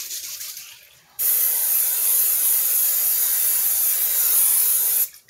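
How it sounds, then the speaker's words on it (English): Cooking spray hisses from a can onto a pan in a single continuous burst of about four seconds, loud and close, after a brief rattle. "Okay, sprayed my pan."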